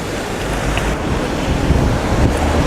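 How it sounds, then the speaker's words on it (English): Strong, cold wind roars outdoors, buffeting the microphone with a loud, constant rumble and rushing noise throughout, with no talking. "It's too windy, it's too cold."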